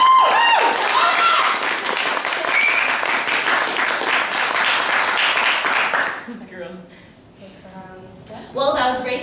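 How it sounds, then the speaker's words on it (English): Loud audience applause fills a debate hall after a vote, dense clapping for about six seconds before fading, followed by a brief voice and a short renewed burst. "please applaud."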